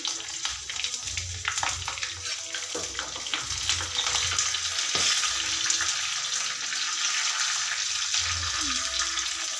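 A vaghar of hot oil with green chillies, bay leaves and curry leaves for tuvar dal sizzles loudly and steadily, a dense crackling hiss that swells slightly as the leaves go in.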